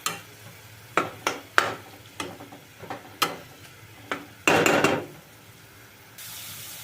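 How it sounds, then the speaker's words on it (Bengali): Spice masala for a chicken dish being stirred and fried on a low flame in a pan, with a series of sharp scraping strokes, a longer burst of sizzling scraping, then a soft steady hiss. "এবারে লো ফ্লেমে মশলাটা আমি ভালোভাবে একটু কষিয়ে নেব"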